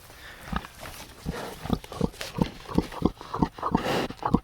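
Red Wattle pigs, a homesteading hog breed, make a steady series of about a dozen short grunts or thuds in close succession, nearby and moderately loud.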